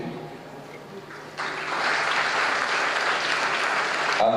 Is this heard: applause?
yes